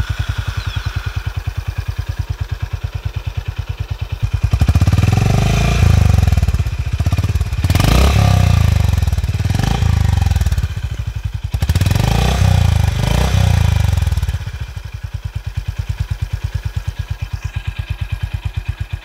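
Honda H'ness CB350 motorcycle engine with a deep, regular thumping idle heard up close, rising to a louder, faster rev for several seconds before settling back into the steady idle beat.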